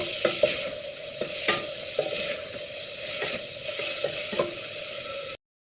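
Chicken gizzard adobo with soy and oyster sauce is stirred in a pan, several distinct utensil scrapes and clacks over a soft sizzle, then a cut to silence.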